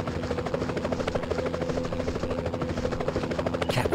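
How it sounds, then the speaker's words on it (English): A helicopter in the PS1 Spider-Man video game drones continuously with a steady rhythmic rotor chop throughout, loud and close, with no voices. "I saw the chopper dropping off armed robbers on top of the bank."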